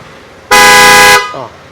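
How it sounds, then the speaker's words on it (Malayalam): A Benz-type horn fitted to a vehicle sounds one loud, steady blast lasting under a second, close by, followed by a brief fainter tone. "ബെൻസ് ടൈപ്പ് ഹോണും കാര്യങ്ങളെല്ലാം നമ്മൾ ഈ വാഹനത്തിലേക്ക് നമ്മൾ ഫിറ്റ് ചെയ്തിട്ടുണ്ട്"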